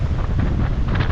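Steady wind buffeting the microphone at a coastal state park on the St. Joseph Peninsula, a loud continuous low rumble with no pauses.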